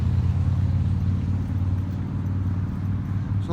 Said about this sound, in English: Sorry for the traffic.